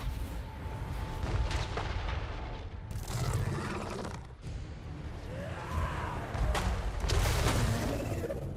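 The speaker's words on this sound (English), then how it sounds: "even their cannon shots are doing, like, nothing" Cannon fire in a Total War battle featuring Noctilus, with heavy booming volleys rolling over a continuous din of combat, loud bursts near the third and seventh seconds amid creaking and clattering, and no voices.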